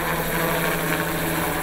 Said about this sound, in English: The sounds of hard work and chopper blades are deafening.